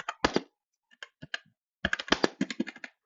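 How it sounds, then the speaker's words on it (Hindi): Quick typing on a computer keyboard while working in Maya, a close, crisp burst of keystrokes, a brief pause with a few scattered taps, then a faster, denser run of clattering keys, with no voice. "तो हम टाइप करते हैं"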